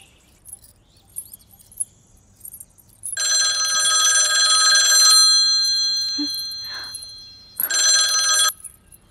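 A telephone rings twice during an outgoing call, a close, bright trilling bell that sounds for about two seconds, pauses, then rings again briefly in an otherwise quiet room.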